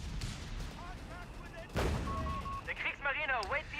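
Mortar HE rounds land in a Company of Heroes 3 real-time strategy battle, a heavy blast hitting midway through a dense din of gunfire and game effects, with whistling tones following.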